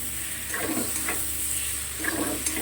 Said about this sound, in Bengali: এবার গ্যাসটা একদম কম করে দিয়ে মশলাটা ভালো করে কষিয়ে নেব।